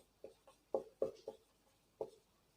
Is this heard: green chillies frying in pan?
no